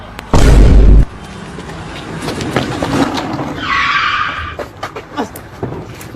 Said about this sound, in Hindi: ये देख मेरे पास गाड़ी है